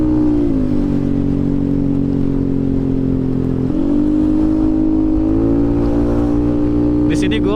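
A Yamaha NMAX scooter fitted with a racing exhaust idles loudly and revs up close, its engine note climbing and settling in steps, while a voice talks over it.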